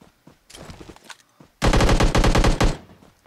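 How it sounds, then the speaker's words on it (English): Gunfire in PUBG Mobile: a rough, softer stretch of shots is followed by a loud, close burst of rapid automatic fire lasting about a second. No talking is heard. "Where were they shooting me from?"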